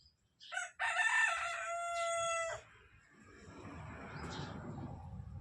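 A rooster crows once, loud and close, followed by a low rustling murmur of hens clucking softly in the background.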